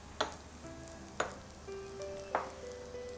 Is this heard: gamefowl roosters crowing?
no